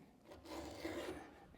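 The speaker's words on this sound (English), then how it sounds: "You can hear it grinding as I sharpen." Hand file drawn across a Stihl MS462 chainsaw chain to sharpen a cutter, one soft close rasping stroke of metal on metal lasting about a second, quiet and alone.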